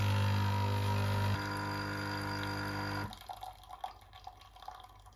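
Water heating in a pot gives a faint, quiet scene: a steady low hum for the first few seconds, then sparse soft ticks and small bubbling drips.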